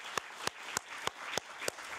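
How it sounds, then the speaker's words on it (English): A conference audience applauds the speakers at a Social Security policy academy, but only a few sharp, widely spaced claps stand out, evenly paced over a hushed room rather than a full ovation. "join me in a round of applause for our fabulous speakers"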